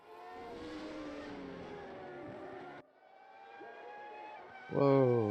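Race cars on the Imola track, their engines whining and shifting pitch as they pass, one car cutting off abruptly midway before another louder engine snarls in near the end.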